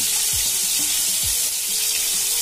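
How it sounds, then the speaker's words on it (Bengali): Cleaned prawns frying in hot oil for a ridge gourd and potato chorchori make a loud, steady hiss that is close and continuous, with two low thuds near the start. "এখন কেটে ধুয়ে পরিষ্কার করে রাখা চিংড়ি মাছগুলোকে দিয়ে দিতে হবে।"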